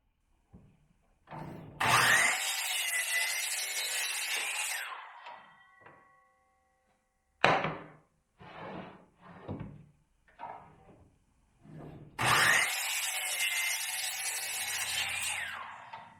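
Maple 1x8 board cut with a hand saw, two long, loud sawing passes with a run of shorter, choppier strokes between them, close and clear without talk.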